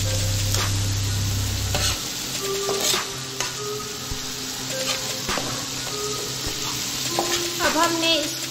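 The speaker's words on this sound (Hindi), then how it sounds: "अब हम इसमें ऐड करेंगे प्याज का पेस्ट, टमाटर और प्याज, अच्छे से मिक्स कर लेंगे।" Onion paste, chopped onion and tomato sizzle loudly in a hot pan with garlic and ginger for kaleji masala, with the scrape and clatter of a spoon stirring the mix close by.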